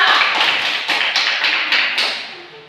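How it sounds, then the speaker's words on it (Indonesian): Classmates clap for a student group after its presentation in a school lesson, a steady run of close, rhythmic claps that gradually fades out. "tepuk tangan buat kelompok 2"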